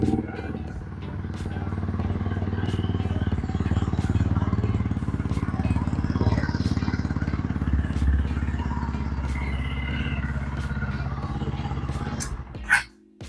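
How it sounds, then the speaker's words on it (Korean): A used 2022 Buccaneer 125cc motorcycle with about 4,437 km runs with a steady, close, low engine rumble that holds evenly throughout and drops away at the very end. "시동 한번 걸어볼게요"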